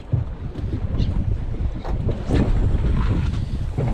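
Gusty wind rushes over open sea during a jigging fishing trip off Batu Puteh, with choppy, strong waves splashing beneath a constant blustery roar.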